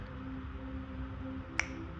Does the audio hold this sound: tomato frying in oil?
no